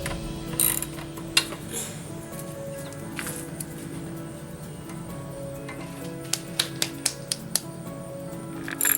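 A ratchet works on the shocks of an electric go-kart during a build: scattered metallic clicks and short bursts of ratcheting, some sharp and close, over a low background hum, with no one talking.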